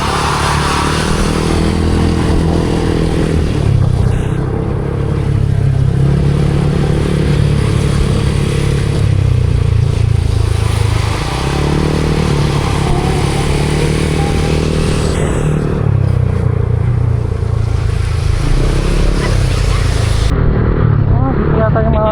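A motorcycle rides through heavy Manila traffic, its engine droning loud and close with rising and falling revs, wind and road noise, and surrounding vehicles blending in.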